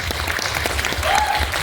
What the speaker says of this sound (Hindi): सबसे पहले तो मैं चाहूँगी कि खुशी के लिए आप लोग तालियां बजाएं